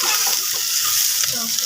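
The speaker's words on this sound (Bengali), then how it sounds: "এবার এটাকে একটু নাড়াচাড়া করে নেব।" Potato, papaya and carrot pieces are stirred in a pan of hot oil, giving a steady, close sizzle with soft scraping under continuous frying hiss.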